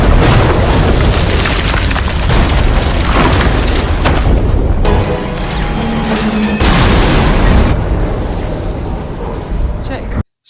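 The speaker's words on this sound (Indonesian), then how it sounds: "jembatan yang sebelumnya telah dipasangi bom oleh Drea akhirnya meledak" A bomb blows up a railway bridge in an action film as a train crosses, giving a heavy, booming roar with dense rumbling and metallic screeching that fills about ten seconds at high volume.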